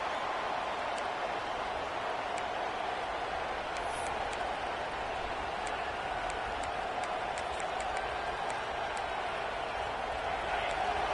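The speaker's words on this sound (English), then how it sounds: "The roar of the crowd trying to fuel this defense" Stadium crowd roar in a college football video game featuring Michigan State, a steady broad wash of cheering noise running continuously at moderate level, with faint commentary underneath.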